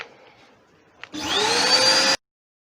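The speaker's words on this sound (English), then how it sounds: "I'm going to vacuum away anything that's dusty that's up on this lathe." Vacuum cleaner clearing dust from a wood lathe, switching on abruptly after a faint click and running as a loud, steady whine for about a second before cutting off sharply into silence.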